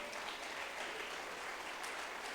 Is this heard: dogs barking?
no